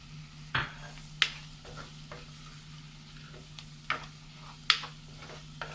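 Chopped tomatoes stirred into sizzling beef vindaloo, a soft frying hiss under a steady hum, broken by several sharp scraping knocks of a spoon against the pan.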